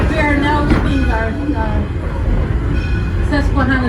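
Detroit Lima Northern 7 train pulling out of Susquehanna station, a continuous rumble of rail cars in motion under talk from a voice, with intermittent squeals and clanks.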